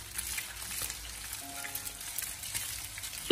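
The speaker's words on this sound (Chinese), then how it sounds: "把鱼块慢慢的煎" Pieces of grass carp pan-frying slowly over low heat in a wok, a steady soft sizzle running throughout with faint crackles and no talk.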